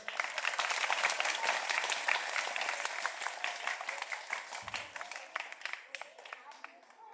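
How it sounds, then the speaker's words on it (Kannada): Children at a school program clap loudly together, a dense, sustained round of applause that tapers slightly toward the end. "ಮಕ್ಕಳೆಲ್ಲ ಜೋರಾದ ಚಪ್ಪಾಳೆ"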